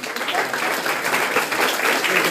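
Theatre audience applause for the theatre director at the Marlowe Theatre, Canterbury: steady, full-house clapping, dense and continuous throughout.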